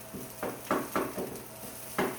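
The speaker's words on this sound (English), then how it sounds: "Just briefly sauteing." Food briefly sautéing in a hot pan, with soft sizzling and several quick stirring scrapes in a short, fairly quiet burst.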